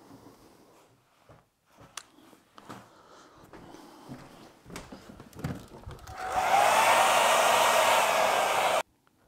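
A hair dryer switches on and roars loudly and steadily for a few seconds, then cuts off, after quieter scattered handling noises.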